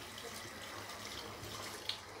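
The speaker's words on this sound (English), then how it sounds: "Gonna rinse that puck off." Tap water running over a tallow-based shaving soap puck while it is rinsed, a faint steady splashing stream for a couple of seconds with one small clink near the end.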